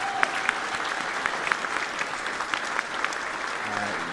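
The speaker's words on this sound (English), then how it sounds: "let's give her a round of applause" A crowd at the 2024 Aurora Prize Ceremony in Los Angeles breaks into steady, moderately loud applause, a continuous patter of many hands with a voice faintly present beneath it.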